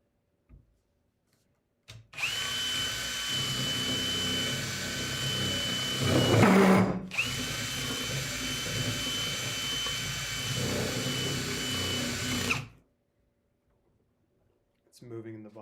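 A power grinder works a steel pipe clamped in a vise, a loud, steady whining roar close by. It runs about five seconds, stops briefly, then runs again for about five seconds and cuts off, leaving near silence.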